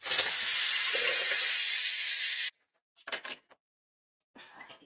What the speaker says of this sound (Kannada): ಇವಾಗ ಪೂರಿ ಕರಿಯಾಕ್ಬಿಡ್ತೀವಿ.